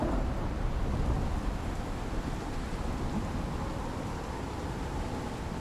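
Steady rain pours down in a survival game set on an island, a dense low rushing wash that stays constant throughout with no voices.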